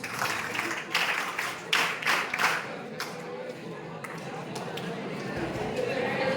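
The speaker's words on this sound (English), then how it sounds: "3 chair claps" A class of high school students claps in a rhythmic pattern, a quick burst of closely spaced group claps followed by a few scattered later claps, with murmuring and a voice heard underneath.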